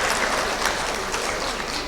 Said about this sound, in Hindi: प्लीज़ ज़ोरदार तालियों से इनका स्वागत कीजिएगा।